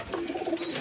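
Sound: Rampuri pigeons cooing

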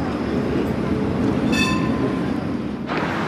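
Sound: tram ride in Geneva

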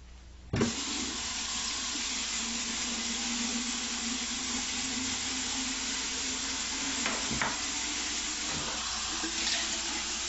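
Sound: running cold tap water

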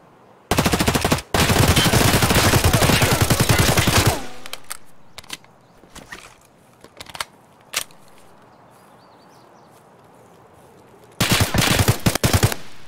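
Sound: gunfire in the video game Escape From Tarkov

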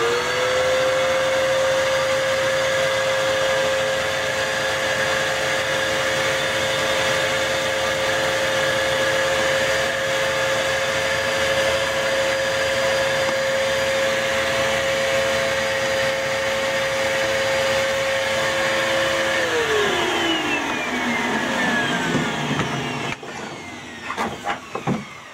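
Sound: vacuum cleaner sucking up drilling debris

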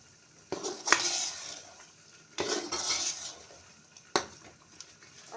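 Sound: stirring chicken into butter chicken gravy

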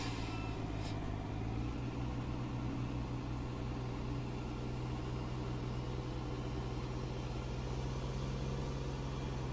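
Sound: truck engine pulling away, Farming Simulator 19 video game

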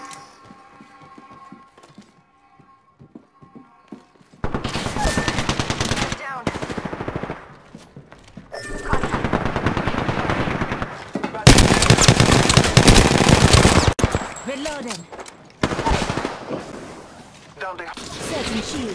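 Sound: gunfire in the video game Apex Legends

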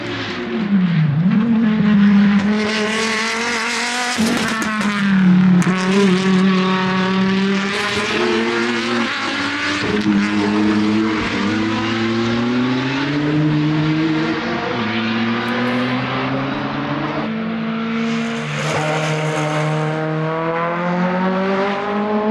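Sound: race cars passing at Nürburgring 24-hour race

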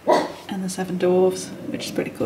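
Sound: dog barking

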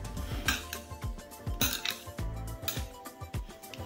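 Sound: mixing Šopska salad ingredients together in a bowl

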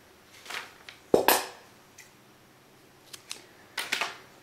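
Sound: scissors cutting yarn

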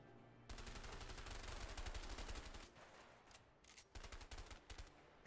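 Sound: gunshots in the video game A Way Out

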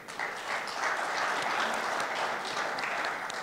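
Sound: audience applause

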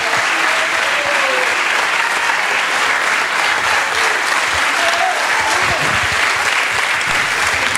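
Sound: audience applause

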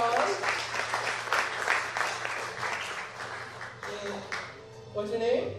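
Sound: audience applause for volunteer on stage

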